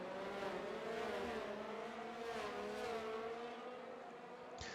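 Race cars are driving at a circuit in Austria, with engine notes rising and sweeping close by in a loud continuous roar that fades slightly toward the end.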